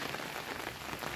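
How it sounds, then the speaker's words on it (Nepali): Steady, dense rain falls on wet camphor tree leaves on a hillside near Kathmandu during monsoon downpour, a close, even hiss with no gaps. "आज पानी परेको परै छ"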